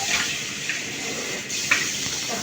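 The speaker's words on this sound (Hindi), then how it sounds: "ये धो दिए सारे बाउल" Water runs steadily from a tap while bowls are washed, a close, even hiss with a couple of faint knocks of dishes.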